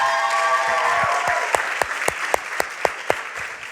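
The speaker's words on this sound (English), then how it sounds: "Should we give them another round of applause to all of them?" An audience at a tech showcase gives a round of applause that starts as a broad crowd wash and thins to a few loud, regular claps close to the microphone.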